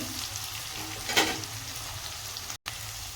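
Onions frying in a pan for a cauliflower curry give a steady, close hiss and sizzle, with one brief stir partway through and a short cut-out near the end.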